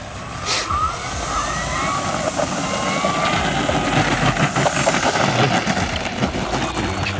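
Engine of a giant P-51 Mustang warbird model plane during a takeoff attempt. A loud, steady propeller drone runs throughout with a thin high whine that cuts out partway, and it swells and roughens toward the end.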